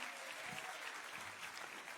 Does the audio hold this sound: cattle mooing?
no